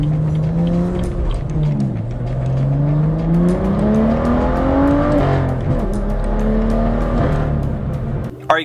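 BMW F87 M2 with the N55 engine and manual gearbox driving, engine note rising steadily under load, dropping briefly at a shift around two seconds and again near five, loud and continuous throughout with no talk.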